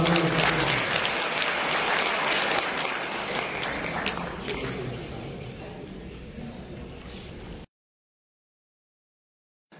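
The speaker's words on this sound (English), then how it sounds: "Give him a nice little round of applause." An audience applauds to welcome a speaker at a talk, a steady wash of clapping that slowly fades over several seconds before cutting to silence.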